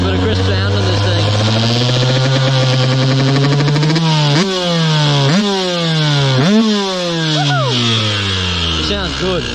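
Two-stroke dirt bike from KTM, Beta or Sherco running close by, a crisp buzzing engine that holds steady, then revs up and drops back in several quick sharp blips.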